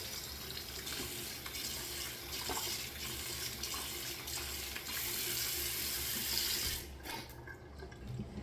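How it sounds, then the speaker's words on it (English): A sink tap runs steadily while someone rinses their face after shaving, a close, full hiss of flowing water with small splashy variations throughout, then a brief change near the end as the splashing shifts. "let me rinse my face a little bit more"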